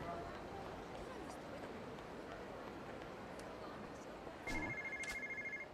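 A phone rings in the video game Yakuza 0, a short electronic ringing tone that comes in near the end over a busy background of game noise and chatter.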